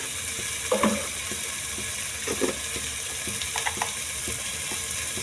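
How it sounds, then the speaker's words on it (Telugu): Spices, chili powder, garam masala and turmeric fry in a pan with a steady, close sizzle, broken by occasional stirring scrapes and light clinks; no one speaks. "ఇది మరి కొంచెం లైట్ బ్రౌన్ వచ్చేంత వరకు ఫ్రై చేయాలండి"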